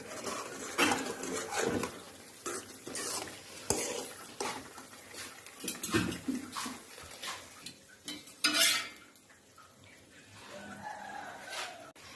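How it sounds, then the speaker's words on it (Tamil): Cream simmering in a pot to make ghee while a spoon stirs and scrapes it, giving repeated metallic scraping strokes over a bubbling sizzle, close and uneven, with no voices. "கொஞ்சம் கிளறி விட்டுட்டே இருங்க."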